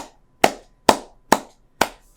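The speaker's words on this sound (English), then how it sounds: "round of applause for that." Four slow, sharp handclaps from a single person, close and loud, each one separated by about half a second of near silence.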